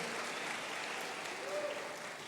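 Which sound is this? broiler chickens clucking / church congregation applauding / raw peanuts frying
church congregation applauding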